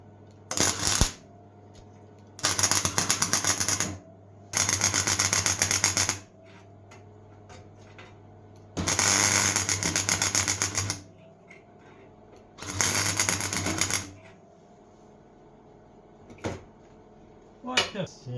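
A Parkside PFDS 120 A2 flux-core welder welds thick steel in five loud, crackling bursts lasting one to two seconds each, separated by quiet gaps, with a low hum underneath.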